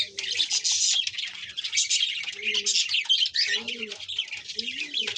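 Several Madrasi highflyer pigeons coo in low, wavering phrases at close range. Dense, shrill chirping fills the air above them throughout.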